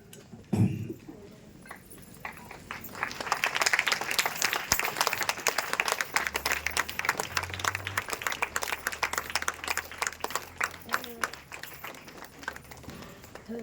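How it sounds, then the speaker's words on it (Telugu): A church congregation at a public Christian meeting stands and claps together, sustained applause building after a brief pause and continuing loudly with crowd noise, a low hum beneath. "అందరూ ఒకసారి లేచి చప్పట్లు కొడదాం."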